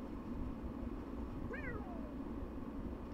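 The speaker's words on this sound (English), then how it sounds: "Who let the cat out?" A single short cat meow rises and falls over a loud, steady background roar, faint and brief in the middle of the sound.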